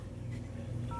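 A Samsung Galaxy Tab S2 9.7 LTE tablet dials a phone number, a short touch-tone beep sounding faintly over low room hum.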